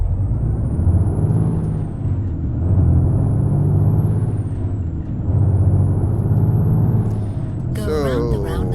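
A heavy truck in Euro Truck Simulator 2 with its engine droning loudly and rising and falling in pitch as it moves through the gears, ending with a short burst of other noise.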